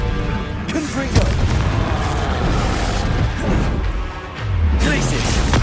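The Confringo spell exploding in Hogwarts Legacy, with dense, booming blasts and crashing impacts that run continuously and loud, while a voice calls out spell names over the action.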